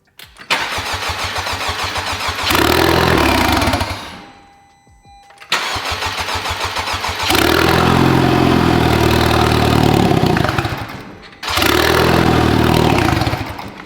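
A rebuilt 2021 Honda Civic Type R engine cranks and fires up, revs, drops away and falls quiet, then restarts into a loud rising idle and revs, close and continuous with no voices.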